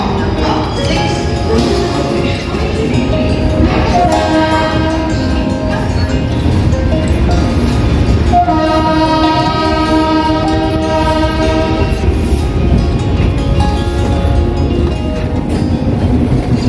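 Howrah-Barbil Jan Shatabdi Express, train 12021, running on the Kharagpur to Ghatshila line in India; a loud, steady rumble of the moving train fills the whole stretch, with long sustained horn blasts sounding through it.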